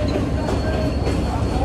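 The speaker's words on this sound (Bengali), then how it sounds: "লোকাল ট্রেন ঢুকতেছে এখন" A local train rolls into a station with a steady, loud rumble of wheels and carriages nearby, a brief close-up burst of rail noise without distinct horn or squeal.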